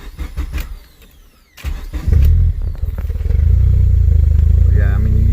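Car engine with a Recaro seat cranking and catching, then settling into a loud, rough, low idle with an uneven rumbling pulse, close up, with a voice speaking briefly before the start.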